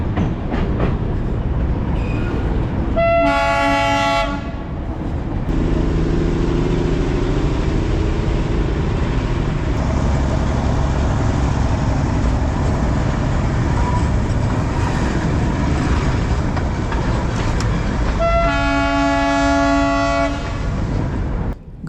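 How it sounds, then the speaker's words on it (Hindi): The Darjeeling toy train, a narrow-gauge mountain railway, rumbles steadily and loudly along its track, and its horn sounds in two short blasts, one early on and one near the end. "अब धीरे धीरे ट्रेन सड़क को छोड़कर थोड़ा ऊपर जाती जाएगी"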